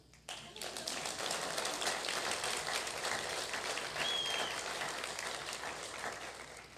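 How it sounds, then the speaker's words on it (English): A live audience at an evening concert bursts into sustained applause, a dense wash of many hands clapping together that rises quickly and holds steady, with a few voices mixed in. "Indeed, applause are in order."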